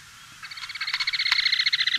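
A recorded caminera bird call plays back as a rapid, repeated high trill that starts after a quiet moment and grows louder and denser, with no voices.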